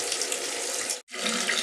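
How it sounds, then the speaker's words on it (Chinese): Water rushes steadily into a Xiaomi 5 kg pulsator washing machine as it fills from the top, a close, continuous hiss with a brief break midway. "看，它从这个上面部分就往里进水了"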